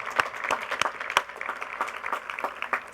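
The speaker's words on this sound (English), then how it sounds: "will you join me in a round of applause for those who helped you get here today?" Graduates applaud their supporters at a university baccalaureate service, a spread of clapping with several louder individual claps standing out in an irregular pattern, moderately loud throughout.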